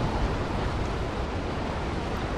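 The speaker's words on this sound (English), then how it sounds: "Waterfall." A steady, dense rush of falling water from a waterfall in the video game Dying Light: The Following, loud and continuous with no pauses and no voices.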